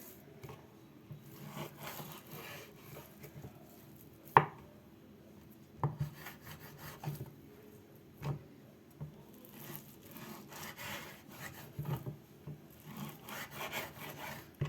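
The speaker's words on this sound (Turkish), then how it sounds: "şöyle küp küp doğruyorum" A knife cubes vegetables on a cutting board in scattered, irregular bursts, with quiet scraping between strikes and pauses; no voices.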